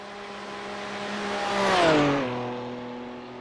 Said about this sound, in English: Sven's going around again, coming up the hill for his final lap.